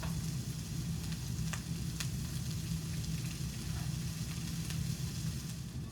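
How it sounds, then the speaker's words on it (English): Steady, dense sizzling of vegetables sautéing in oil in a hot pan for a chicken stir fry, continuous and close, with a few faint clicks and no talking. "you hear that nice little saute sizzle for just a little bit of time"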